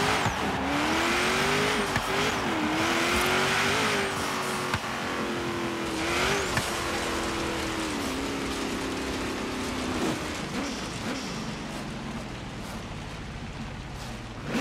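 A Bugatti engine revs high in the Forza Horizon racing game and its tires squeal through corners. The engine drone rises and falls steadily, with skidding bursts and no talking.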